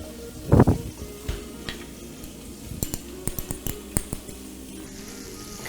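Courgette sautéing in a hot pan alongside a toothfish fillet, a low sizzle running throughout with a loud clatter as the pieces go in, then scattered clinks and taps of utensils on the pan.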